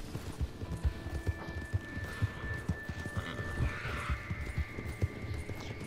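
In Red Dead Redemption 2, a horse's hooves clop in an even, moderately loud trotting rhythm close by, with a faint whinny partway through and little talk over it.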